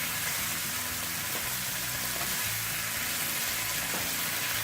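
Dill leaf saag frying in a pan while being stirred slowly, giving a steady broadband sizzle that runs unbroken and fairly quiet throughout, with no talking.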